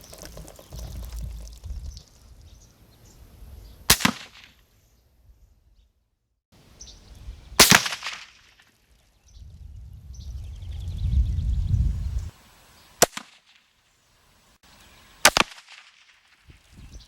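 Four sharp, suppressed cracks of CCI .22 Long Rifle Quiet rounds fired at range, spaced a few seconds apart, each brief and isolated against quiet outdoor background with low rumbling noise between.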